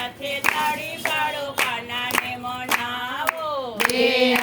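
A women's devotional dhun group in Rajkot sings a Krishna bhajan together, marked by steady two-handed claps at a regular beat of roughly two per second under the sustained melodic voices.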